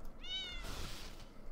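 A game cat gives a single clear, drawn-out meow, close and fairly quiet, followed by a short rustling burst and faint background noise.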